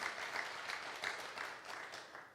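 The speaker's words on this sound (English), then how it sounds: "yes, clap to that." A church congregation claps together for a couple of seconds, a steady, fairly faint wash of hands with no voices over it.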